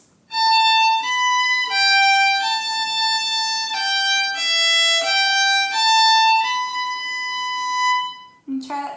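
A fiddle plays a phrase of the Manx tune Myr Shenn Ayr, a clear, sustained bowed melody of several legato notes moving stepwise, close and loud, ending with a brief bump of handling noise.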